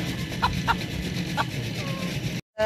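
Free-range village hens cluck close by in a few short, clustered calls over a low background hum, and the sound cuts off abruptly near the end.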